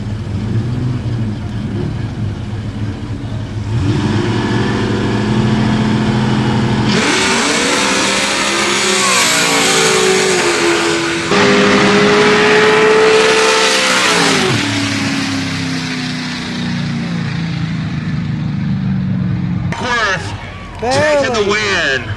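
Nitrous drag race cars roaring off the line and screaming through their runs, loud sustained engine howls rising in pitch, with announcer and crowd talk over the noise.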